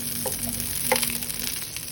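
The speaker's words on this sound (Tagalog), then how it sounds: "Add the butter." Butter sizzles and fries in a pan as cooking begins for ginataang crabs, a steady close crackle with a few brief louder pops and faint stirring, no one talking.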